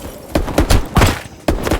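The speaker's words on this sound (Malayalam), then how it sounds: "ഇവിടെ നിന്നൊക്കെയാണ് വെടി വരുന്നത്." Gunfire in a battle video game: a rapid burst of several sharp shots in an irregular rhythm, loud and close, with no talking over it.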